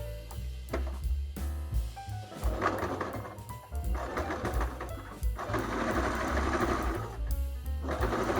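A home sewing machine runs a zigzag overlock-style stitch along a seam with a presser foot, its motor whirring in steady bursts with short pauses, close and fairly loud.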